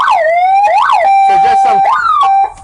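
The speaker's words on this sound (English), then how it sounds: "You also got some buzzers here." A loud electronic siren on a 23-passenger electric shuttle sweeping up and down through several wailing and yelping patterns, continuous and close, cutting off abruptly at the end.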